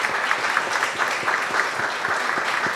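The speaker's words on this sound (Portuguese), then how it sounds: "Um aplauso para o Auríbio." Audience applause at a literary dialogue event in Recife, steady dense clapping from a crowd sustained throughout, fairly close and moderately loud with no voices on top.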